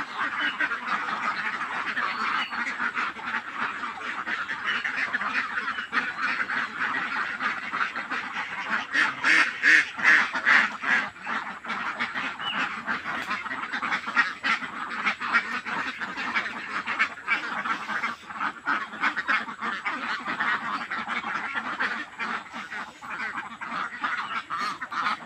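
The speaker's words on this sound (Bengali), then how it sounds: "এই দেখতেই চান অনেকগুলো হাঁস।" A large flock of ducks, well fed on snails, quacks continuously in a dense, overlapping chorus at moderate distance, with a louder burst of calls midway.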